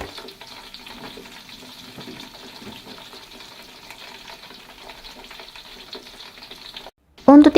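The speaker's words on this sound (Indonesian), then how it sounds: "Setelah itu kita masukkan jagungnya, di sini kita goreng aja bersamaan. Gorengnya sambil sembari diaduk-aduk ya." Corn kernels fry with garlic in a pan while being stirred, a steady close sizzle and crackle running throughout, then a sudden louder burst of clattering stirring near the end.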